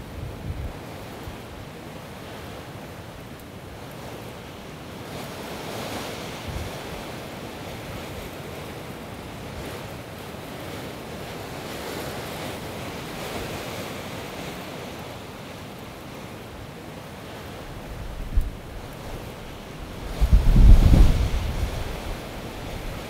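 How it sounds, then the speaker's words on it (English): Strong wind gusts across an open Wyoming ridge during an elk hunt in late afternoon, a steady broadband rush of wind and microphone buffeting that swells into a louder blast near the end, with no talking. "This is supposed to be the peak of the wind for today."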